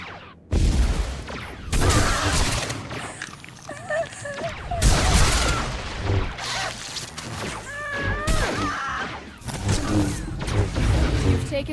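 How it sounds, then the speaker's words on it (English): Ship-mounted turret firing in a Star Wars: The Old Republic video game, bursts of heavy blasts repeating every second or two amid game effects and voices. "Turret firing on Reaper Squad's ship"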